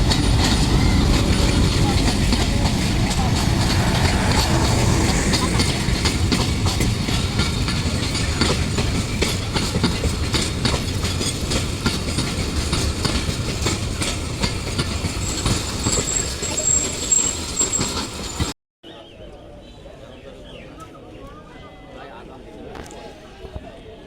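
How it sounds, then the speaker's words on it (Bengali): A train arrives at a railway station, rumbling past with steady clickety-clack of wheels on rails, loud and close, while voices talk over it before the noise suddenly drops away. "ট্রেন চলে আসছে"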